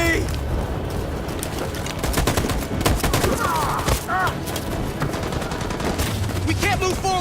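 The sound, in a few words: machine gun fire in the video game Detroit: Become Human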